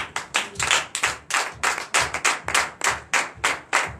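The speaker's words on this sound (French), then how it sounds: "Donne l'acclamation à Jésus." A church congregation at a Sunday worship service in Comè, Benin, claps in unison in acclamation to Jesus: sharp, evenly spaced rhythmic claps, about three per second, loud and clear with no talk.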